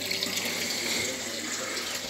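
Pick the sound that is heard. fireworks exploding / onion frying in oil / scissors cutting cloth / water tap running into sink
water tap running into sink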